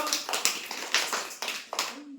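Hand clapping in a children's Odia alphabet lesson, a series of sharp, close claps in a loose rhythm, about six or seven in two seconds, mixed with voices.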